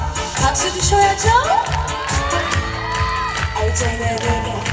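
A concert crowd cheers and shouts enthusiastically for a Korean trot singer, with whoops and clapping mixed into a lively, noisy din that stays loud throughout.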